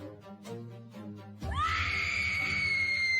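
A woman's unhinged scream echoes down from upstairs, a sustained, shrill cry that cuts in loudly after a brief voice-like murmur and holds steady to the end.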